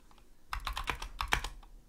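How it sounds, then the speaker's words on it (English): Fast typing on a Mojo 60 mechanical keyboard before any rebuild, a quick run of clunky, sharp keystrokes heard up close with nobody speaking. "Well, it's making this weird typing sound on this browser."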